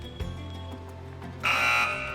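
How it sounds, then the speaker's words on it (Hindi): An electronic buzzer sounding on a quiz show, a loud sustained bright tone cutting in after a quieter stretch of low background hum and lasting to the end. "चलिए तो मैं बज़र एनेबल कर रहा हूँ।"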